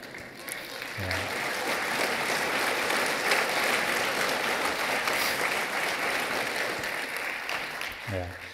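Sustained audience applause swells in after a brief pause and holds at a strong, even level throughout, a dense wash of clapping from a large crowd before fading near the end.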